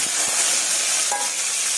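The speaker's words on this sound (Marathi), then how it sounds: "As you can see, it is patpata frying." Something frying in a pan for a Konkani moong dal usli, a steady crackling sizzle that runs unbroken from start to finish at close range, with a few faint clinks and no talk.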